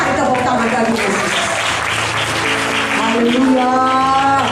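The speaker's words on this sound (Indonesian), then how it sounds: "Mari tepuk tangan bagi Yesus." Audience clapping fills a church seminar hall, a steady dense wash of applause mixed with voices and tonal sounds throughout.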